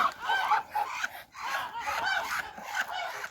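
Farmyard ducks squabbling and fighting, producing a continuous stream of loud, raspy quacks and honking calls close by, with brief dips between bursts.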